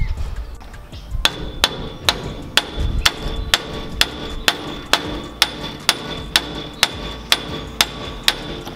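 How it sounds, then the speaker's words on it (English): A 5-pound hand sledge strikes hard on a Toyota Tacoma front wheel hub to break the bearing loose, about sixteen sharp metallic blows at a steady rhythm, loud and close, with no voices. "I'm going to be using my 5-pound hand sledge to make it easier on myself."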